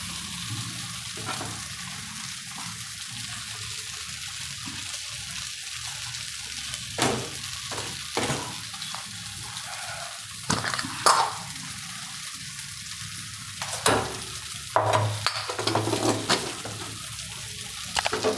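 Leftover idli pieces pan-frying in a little oil, a steady close sizzle with occasional scraping and clacks as they are gently turned, no voices.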